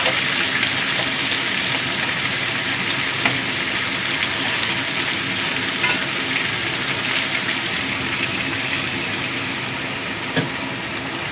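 Hot water goes into a frying katla fish curry with potato, pointed gourd and drumsticks. It gives a loud, continuous sizzling hiss that eases slightly near the end, with no voices.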